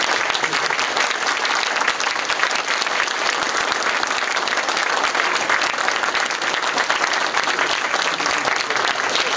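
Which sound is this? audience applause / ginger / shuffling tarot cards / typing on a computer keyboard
audience applause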